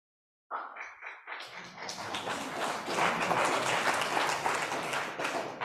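Applause from a church congregation at a worship service starts with a few scattered claps and quickly swells into steady clapping from a sizeable crowd, continuing loud and dense to the end.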